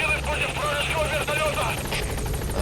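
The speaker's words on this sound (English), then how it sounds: "blowing up that anti-air radar lets me drop the helicopter off right in here" A helicopter arrives at a landing zone in the video game Metal Gear Solid V, its rotor thumping steadily and loudly while someone talks over it.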